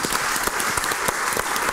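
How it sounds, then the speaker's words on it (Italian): TV studio audience applauding on an Italian talk show, a dense steady round of clapping heard close and loud throughout, with no talk over it. "Posso chiedere un applauso per queste sì,"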